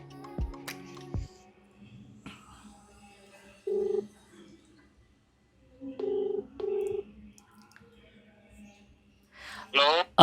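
A phone call being placed, with a few short ringback or dial tones in separate bursts amid quiet gaps, faint background speech and handling noise near the start, and a voice at the end.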